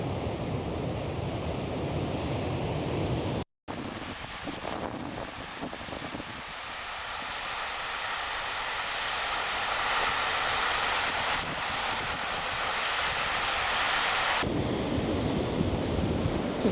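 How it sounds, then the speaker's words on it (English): Ocean surf roars continuously at Lands End, Cornwall, waves pounding the shore and washing in broad surges, with buffeting wind noise across the microphone. "the waves are really pounding in now."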